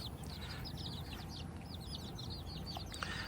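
Chickens clucking and calling in a steady run of short, bright notes against a constant background hiss, a small flock heard from a little distance with no one talking.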